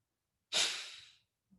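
A single strong, breathy exhale pushed out hard for under a second, then a faint soft sound just after.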